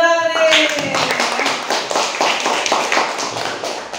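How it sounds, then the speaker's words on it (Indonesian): Classroom audience clapping during a hospitality and tourism teaching practice session, a brisk, fairly close round of many hands clapping steadily after a short spoken phrase. "tepuk tangan dulu dong nih"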